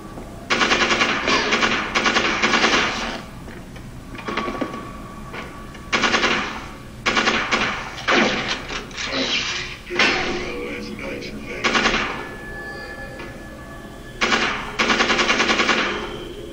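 Rapid machine gun fire from the shooter game Conduit 2 rattles in loud repeated bursts, several volleys spread across the stretch with brief pauses between them, while a player talks over the action.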